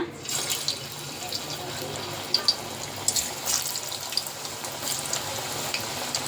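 Mushroom pieces for a restaurant-style mushroom chilli go one by one into hot oil, giving a steady soft sizzle with a few faint, sharp crackles and pops as each piece hits.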